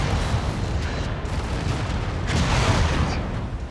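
Heavy mech weapons fire in MechWarrior 5 Mercenaries, a dense, booming roar of cannon blasts and rumbling impacts that keeps up loud and steady, building slightly near the end.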